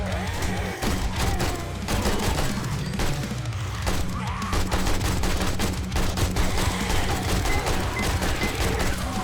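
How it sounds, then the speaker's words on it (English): A Kalashnikov loaded with high-power rounds fires in the zombie survival game 7 Days to Die, a dense stream of rapid gunshots and impacts that continues loud and steady throughout, with no talking. "Let's try the Kalashnikov with high power rounds, shall we?"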